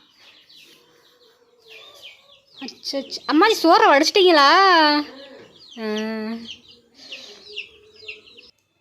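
Chickens clucking in and around a home, several loud bursts of calls mid-clip with someone talking before and after.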